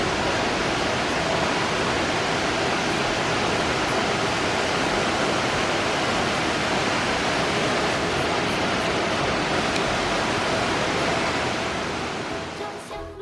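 Dragon Palace waterfall (Longgong Falls) on the Taixing trail roars as a steady, loud, broadband rush of falling water, unbroken and dominating the scene from start to finish.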